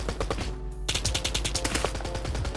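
Rapid automatic Uzi submachine gun fire from a Minecraft weapons mod, a steady stream of sharp synthetic shots that pauses briefly, then resumes in a fast burst to the end.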